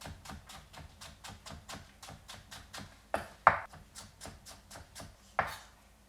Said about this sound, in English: we're going to cut this as thin as we can, crosswise, and green and white parts both